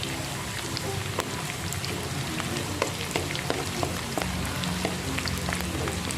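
Sliced long beans sautéing in a pan for sambal, a steady dense sizzle and crackle of frying throughout, close and continuous with small pops scattered over it and no voices.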